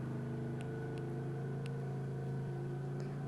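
Chevrolet K30 truck engine in Farming Simulator 22, a steady low drone with a constant hum as the truck cruises down the road, continuous and fairly loud with no voices over it.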